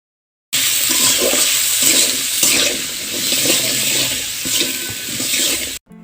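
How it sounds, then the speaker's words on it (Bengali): Potatoes stirred in a pan with salt, turmeric and green chili, giving a steady hiss and scraping that runs unbroken for several seconds, loud and close, with no voices. "এখন আমি আলুর সাথে লবণ, হলুদ, মরিচগুলো ভালোভাবে কিছুক্ষণ নেড়ে নেব।"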